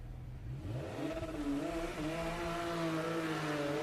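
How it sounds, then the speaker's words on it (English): A Porsche Boxster race car accelerates on the Daytona circuit during a solo timed run, its engine note rising steadily through the revs, moderately loud and continuous with no talk. "Here comes Richard in the Boxster, currently 7th place, staying in 7th, but improving on their time"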